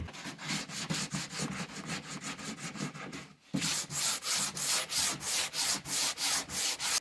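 Rhythmic back-and-forth sanding of birch wood with 150 grit sandpaper, close and scratchy, with a brief pause midway before the strokes resume stronger and evenly paced.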